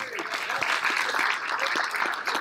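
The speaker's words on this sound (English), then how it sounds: "Give me a round of applause." Crowd at a charity auction gala claps in a sustained burst of applause, fairly loud and continuous, with some voices mixed underneath.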